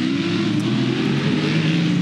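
Touring cars race flat out down the straight at Adelaide, a loud, close engine roar with steady rising pitch as the car accelerates, continuous for the whole stretch.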